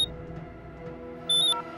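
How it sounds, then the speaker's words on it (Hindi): An electronic ringtone chirps over a low steady hum, with a brighter burst of tones near the end. "मीरा का फोन, वीडियो कॉल।"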